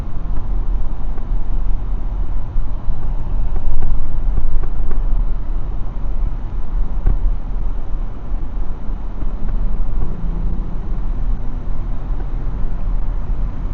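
A car rolls down a county road past crops in late August, a steady broadband rumble of road and wind noise, close and continuous throughout.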